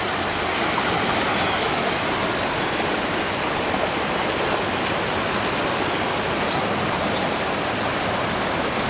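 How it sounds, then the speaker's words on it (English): Flood water from overflowing Mud Creek rushes steadily past, a loud, unbroken broadband roar like a torrent that stays constant throughout with no talking. "I'm taking a picture of Mud Creek, which has overflowed its banks"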